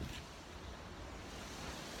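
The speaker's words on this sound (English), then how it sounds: "You hear the wind getting up" Wind gusting through a Japanese garden in spring during cherry blossom time, a steady faint rushing roar with no voices.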